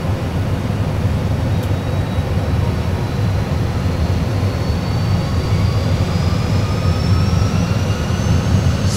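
Airbus A320 jet engines spooling at takeoff thrust: a loud, steady broadband roar with a low rumble, the whine of the fans rising slowly in pitch as thrust builds, heard continuously throughout.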